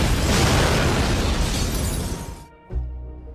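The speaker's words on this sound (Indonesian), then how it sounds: "tiba-tiba saja peluru granat itu meledak" A grenade round detonating beside a car in a disaster film: a loud, roaring broadband blast that sustains for over two seconds, then cuts out abruptly, followed by a short low thump.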